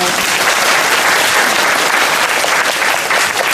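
Loud, dense, sustained applause fills the theatre as the audience at a post-show talk for the stage play Trainspotting claps without a break from start to finish.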